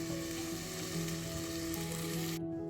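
Dhekia fern greens fry steadily over a low flame in a pan, giving a continuous even sizzle and crackle that runs throughout before cutting off abruptly near the end.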